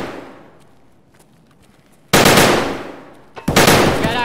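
Gunfire in Escape from Tarkov: two loud, dense bursts of automatic fire, each lasting over a second, crash in close by after a quiet stretch.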